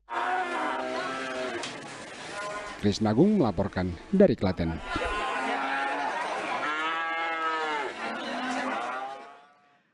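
Cattle low among the livestock herds of Klaten Regency, Indonesia, a few deep moos rising briefly in the middle while a reporter speaks over most of the stretch.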